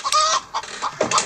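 A hen clucks several times in quick, loud, close bursts, short sharp clucks with a brief squawk in between, heard alone without talk.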